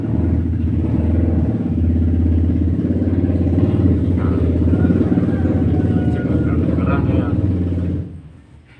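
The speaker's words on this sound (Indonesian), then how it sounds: "ada suaranya motor ya" A motorcycle engine rumbles loud and close for about eight seconds, then drops away abruptly. A person talks under the engine noise.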